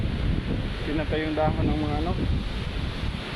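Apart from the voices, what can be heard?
wind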